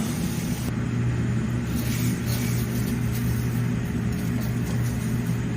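Diedrich IR-12 coffee roaster drum turning a fresh charge of beans, a steady low mechanical rumble and hum held level throughout, close and continuous with no voices.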